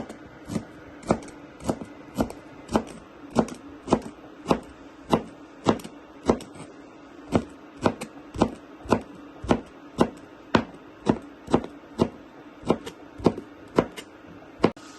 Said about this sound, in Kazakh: Мінекей тағы 3-4 көк пиязымызды тура жібереміз.